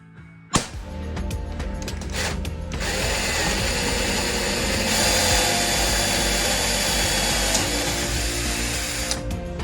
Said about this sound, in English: I am just going to drill all the holes